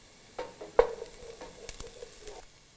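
Onions softening in a pan for carrot soup, giving a quiet, steady sizzle with a few sharp knocks and scrapes of a utensil stirring, close by and fairly soft.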